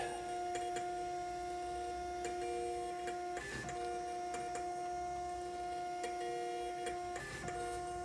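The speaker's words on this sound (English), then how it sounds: "So it's spitting out all of the labels that I just printed." A desktop label printer at a cluttered home desk prints a run of shipping labels, giving a steady mechanical whir with a constant hum and repeated ticking clicks, plus a couple of louder feed bursts, close by with no talk.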